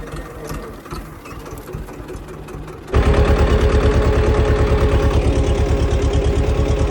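Diesel tractor engine while ploughing, first running at a softer idle, then revving up sharply into a loud, steady rapid chugging at close range with no talk.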